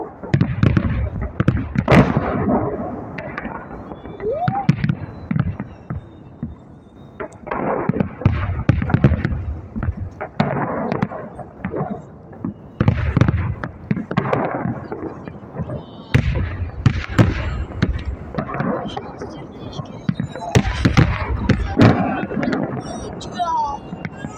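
A Victory Day fireworks salute on 9 May 2023 over Moscow, seen from Sparrow Hills with distant bursts near Ostankino, keeps up a continuous rumble of crackling booms and pops, while people talk over it.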